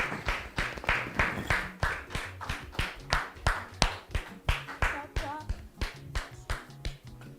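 A studio audience claps steadily in a sustained round of applause welcoming a guest onto a French television talk show, rhythmic and fairly close, with some voices faintly mixed in.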